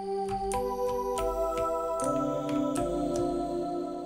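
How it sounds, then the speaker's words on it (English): A Nexus Fantasy Bell Pad 4 synth plays a simple, minimal chord progression. Bright, bell-like chords ring out and change every half second to a second, with sustained tones layered underneath, and no voices. "I'm pulling up this Fantasy Bell Pad 4, and I'm just gonna try and make a little chord progression out of it."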